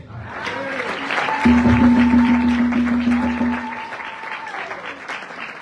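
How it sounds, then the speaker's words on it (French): A church congregation at a Sunday service applauds with steady, dense clapping throughout, while a sustained organ or keyboard note sounds along with it. "Est-ce qu'on peut applaudir?"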